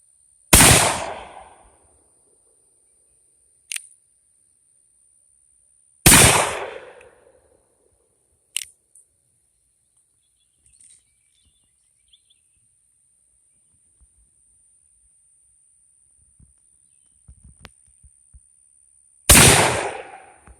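A Ruger Old Army black powder revolver fires three loud, sharp shots several seconds apart outdoors, each booming report decaying quickly into near silence, with a faint steady insect whine in the background.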